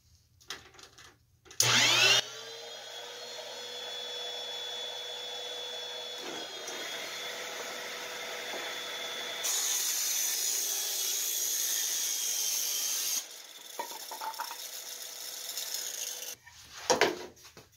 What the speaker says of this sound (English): this is 2x Southern Yellow Pine, and I pushed that piece as hard as I could, and that blade took it and threw it out on the floor